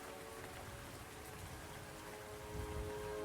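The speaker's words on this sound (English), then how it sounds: "So it's just like endless, non-stop rain sounds." Continuous, even rain falls without pause, a dense hiss of drops on a surface with a faint low rumble swelling slightly near the end.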